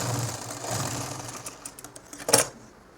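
A sewing machine stitching a nightie at home whirs in a steady close run, then slows into a few uneven thumps and a sharp final clack.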